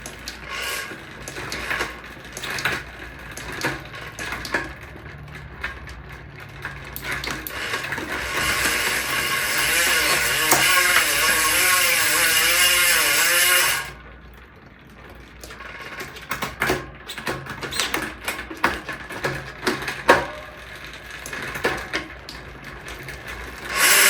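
Bicycle drivetrain with 165mm Dura-Ace cranks and Enduro XD15 hybrid ceramic bearings spinning and clicking through the gears, a steady close mechanical whir with ratcheting shifts, rising to a sustained run midway before settling.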